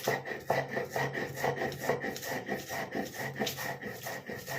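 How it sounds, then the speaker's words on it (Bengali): Roasted black cumin is ground by hand on a flat grinding stone, a quiet rhythmic rasping rub repeating back and forth at a steady pace. "আমি এটা শিলে বেটে নেবো, তাই জন্য শিলের ওপরেই রেখেছি।"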